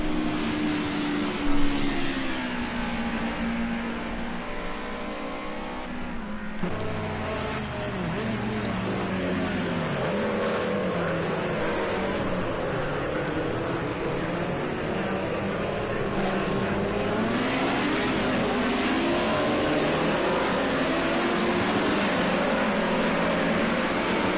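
A pack of Audi, Ford, Mercedes and BMW touring race cars at Rouen-les-Essarts accelerates up a hill, engines droning and rising in pitch as multiple cars pass continuously and loudly, with a commentator talking over them.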